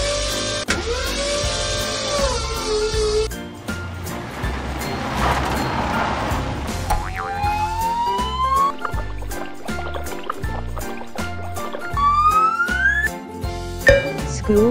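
A toy fire truck siren rises and falls in repeated sweeps over a jaunty electronic melody, with a brief whooshing noise partway through.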